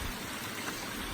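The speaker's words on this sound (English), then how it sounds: "Waterfall." A waterfall and flowing stream along the Pacific Crest Trail, a steady, moderately loud rushing of water with a continuous even hiss and no voices.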